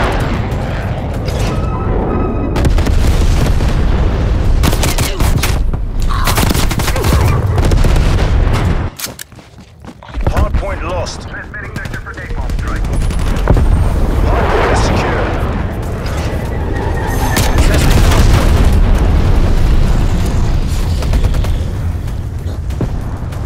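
Napalm strike in Call of Duty: Black Ops Cold War, a heavy barrage of booming explosions and gunfire that rumbles loudly and almost continuously, briefly dropping away midway before resuming, with speech mixed in.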